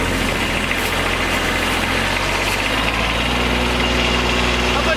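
A Kubota B2601 compact tractor's engine idles steadily nearby with a constant low rumble and vibration, while people talk intermittently over it.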